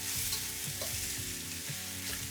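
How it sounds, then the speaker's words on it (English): Chicken sears and stir-fries in a hot pan for a green curry with cauliflower, giving a steady close sizzle and crackle with soft stirring scrapes and no talking. "So some of this is gonna be seared, stir-fried,"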